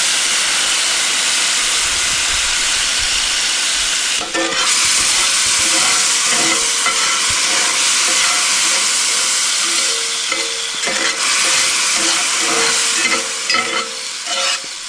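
Balsamic vinegar simmering in a pan, a loud, close, continuous bubbling sizzle with a rising hiss of steam partway through, while a utensil stirs and scrapes; no one speaks.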